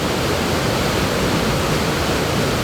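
Waterfall rushing in a landscape setting, a dense, steady roar of falling water, loud and unbroken throughout with no voices.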